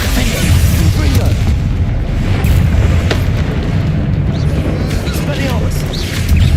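Spell explosions from Hogwarts Legacy gameplay: a steady, loud stream of booming bursts and rumbling blasts fills the whole stretch without pause, with no talk.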